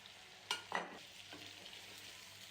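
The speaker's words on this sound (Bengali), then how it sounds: "ভালো করে কষিয়ে নিব একটু" Turmeric, salt, chili powder and two green chilies sautéing in a pan for a thin rohu fish curry, with a couple of brief stirring scrapes and a soft sizzle, quiet and short, with no talking.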